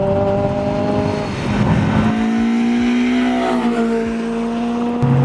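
A Honda Civic Type R FN2 fitted with DC5 Brembo brakes revs hard on the move, its high engine note climbing steadily with a brief shift, loud and close throughout.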